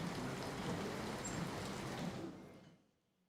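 Heavy rain pours down in Surat as a dense, steady hiss that stays even for a couple of seconds, then fades away to near silence.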